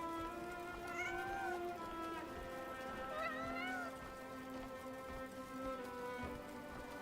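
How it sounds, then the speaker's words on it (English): A cat in a video game meows in several drawn-out, rising and falling calls over a soft rainy background, fairly close and clear. "I love this cat."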